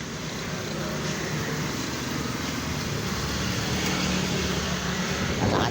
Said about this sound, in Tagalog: Yan mga dumadaan sa sakyan.